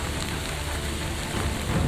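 Heavy rain pours steadily over Patna, a dense, constant hiss with a slight swell toward the end and no voices.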